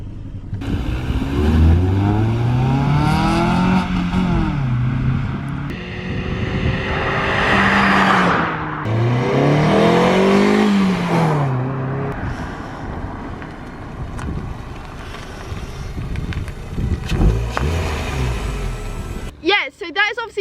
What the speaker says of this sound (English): that is obviously Harry's Mini Cooper, completely stock basically, and obviously boring as fuck when it comes to noise